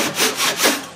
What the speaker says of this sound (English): now I'll take the draw saw and put in sipes